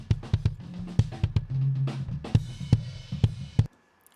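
A raw kick drum picked up by a kick-out mic thumps in a steady, fairly quick pattern with deep boomy hits and some bleed from other drums, then stops abruptly.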